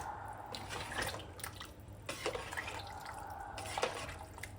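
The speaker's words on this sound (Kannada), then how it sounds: "ನೋಡಿ ಹೆಂಗೆ ಕುದೀತೈತೆ" Water for a Mandya-style biryani boils in a pot, giving a soft, steady bubbling with irregular small pops and splashes. It is heard close and quiet, with no talking.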